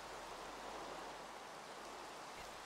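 Steady, dense hiss of rain falling in the Minecraft modpack Enigmatica 6, an even broadband wash with no breaks or voices.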